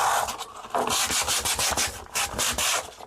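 Sandpaper scrubs against a wall in rhythmic back-and-forth strokes, a loud, close, gritty rasp that starts and stops in bursts, with no talking.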